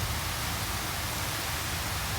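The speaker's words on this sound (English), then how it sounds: "Torrential rain's falling." Torrential rain pours down in a steady, dense roar, a heavy cloudburst hissing evenly and continuously with no breaks or other sounds.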